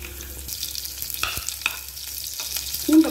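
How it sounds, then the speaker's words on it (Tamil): Garlic and cumin seeds frying in ghee give a steady close sizzle, with a few soft stirring scrapes over it and no voices. "தாளிக்கிறதுக்கு 1 ஸ்பூன் நெய் ஊற்றி வச்சுருக்கேங்க, நெய்யோட சீரகம் கொஞ்சம் செவந்துருச்சு."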